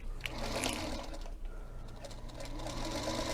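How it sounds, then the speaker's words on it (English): A Baby Lock sewing machine stitches through lace with a continuous close mechanical whirr and rapid needle chatter that runs steadily from start to finish. "we're going to sew right in the middle of your lace"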